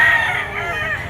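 A rooster crows loudly and close at an outdoor pet market where stag chickens are sold, one sustained, wavering call filling the moment.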